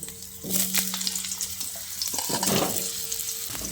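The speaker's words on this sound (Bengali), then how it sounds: "এই পর্যায়ে কেটে রাখা আলুগুলোকে দিয়ে দিচ্ছি।" Cut potatoes drop into hot oil tempered with dry chilli and nigella seeds, giving a continuous nearby sizzle with stirring and clattering bursts.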